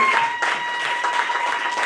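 A church congregation applauds and acclaims Jesus during a worship service, a dense, steady wash of clapping and cheering voices filling the room for a couple of seconds.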